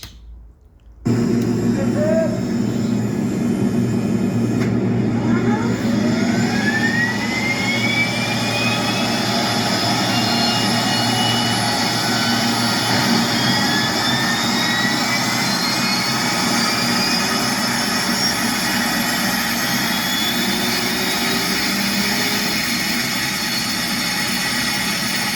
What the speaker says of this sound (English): This will simulate the drive motor for the propeller.